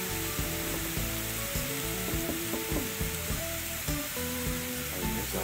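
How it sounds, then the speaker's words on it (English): Oysters steaming under soaked burlap on a Weber grill, a constant hissing sizzle with bubbling and crackling, plus faint tonal knocks and clatter underneath. "Steam out them oysters."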